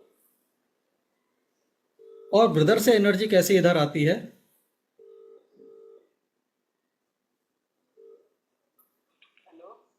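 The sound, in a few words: phone call dialing on speakerphone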